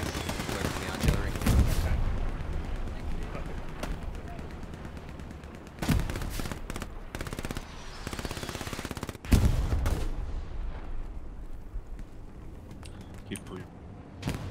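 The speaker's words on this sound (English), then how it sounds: "Work the artillery." Booming artillery and gunfire in the World War II shooter Hell Let Loose, with heavy blasts around the two-, six- and nine-second marks over scattered shots and rattling battlefield noise; no speech.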